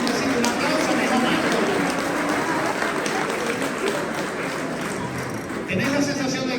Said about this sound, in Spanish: Así que un aplauso, mi mamá